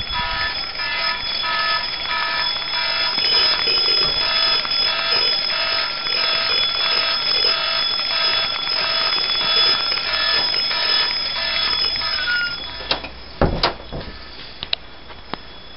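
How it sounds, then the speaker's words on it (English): A Big Ben alarm clock and a cell phone alarm ringing together as a continuous loud, dense jangling and beeping, with a few sharp knocks near the end and no talking. "he's got his cell phone alarm going off, his Big Ben alarm going off"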